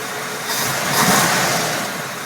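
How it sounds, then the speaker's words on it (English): A 1965 Chevy truck engine that has been sitting for years and has a carburetor needing adjustment, revving up loud and close as it swells then eases slightly, with a rough, noisy tone. "I'm gonna go in there and step on the gas."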